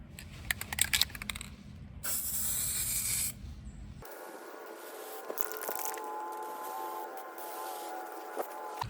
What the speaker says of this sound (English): now I'm going to take some Kubota orange and spray them